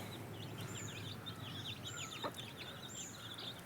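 Parent stock chicks hopping about and clucking in a brooder, a run of repeated high cheeps and short chirps over a low steady hum, fairly close, no voices.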